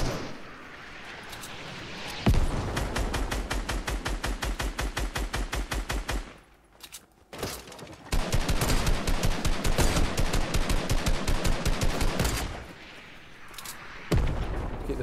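Rapid automatic gunfire in Fortnite rattles in long, loud bursts, broken by a short pause and resuming with dense fast shots, then fading before a final burst.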